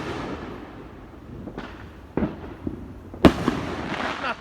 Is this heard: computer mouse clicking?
no